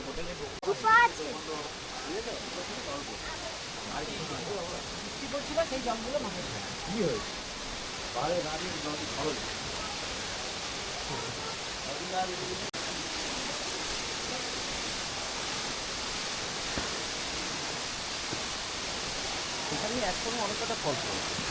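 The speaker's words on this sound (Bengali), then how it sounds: "এই 6 নম্বর স্পট একটা বিগ ওয়াটারফল আছে।" A big waterfall at a cave garden in Meghalaya gives a steady broad rushing roar, moderately distant and even throughout, with a few brief louder bumps near the start.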